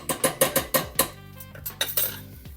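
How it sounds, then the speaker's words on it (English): A spoon stirring tomato paste and spices in a pot for vegetarian chili, with a rapid run of loud, close metallic clinks and scrapes against the pot, then slower knocks. "Stir that around a little bit."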